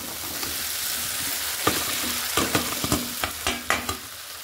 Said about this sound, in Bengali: এবার আমি সেই আলু আর সয়াবিনটা একসঙ্গে দিয়ে দিচ্ছি।